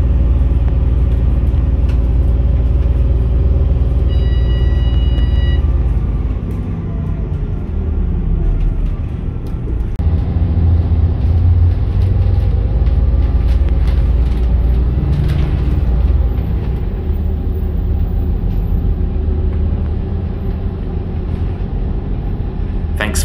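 Inside a Blue Mountains Transit Volvo B7RLE bus with a Volgren Optimus body climbing a hill past shop windows: a loud, close, steady low engine rumble and road drone that runs without a break.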